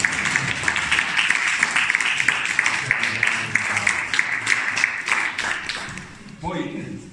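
An audience at a theatre photography event applauds steadily for several seconds, with a voice speaking briefly near the end as the clapping fades.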